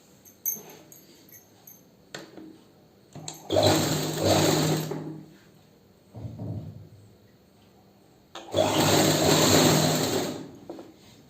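Electric sewing machine stitching a garment sleeve, with two long bursts of fast whirring run between shorter stops, handling clicks and a brief motor spurt in the gaps, close up and without talk.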